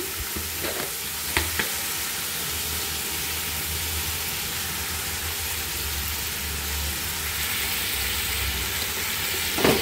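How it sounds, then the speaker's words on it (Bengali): Onions frying in a pan until browned, a steady close sizzle and hiss running throughout, with a couple of brief utensil knocks near the start and no voices. "পেঁয়াজটা ভালো করে বাদামি কালার করে নিলাম"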